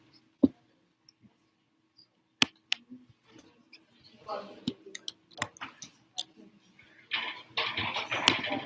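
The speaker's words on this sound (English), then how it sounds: "I'm typing the 4 questions, so you can see and also" Fingers type on a computer keyboard in a quiet room, sparse single clicks at first, then quicker bursts of tapping near the end, with faint talking in the background.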